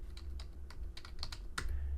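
Someone types a file name on a computer keyboard: a short burst of close, crisp key clicks in uneven rhythm, with no voice over it.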